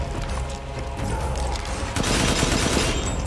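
Gunfire in Resident Evil Village during a boss fight, a dense continuous clatter of shots and impacts that grows louder and heavier partway through, with no voices over it.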